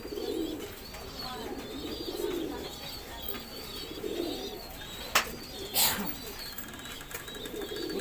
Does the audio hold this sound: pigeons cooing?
yes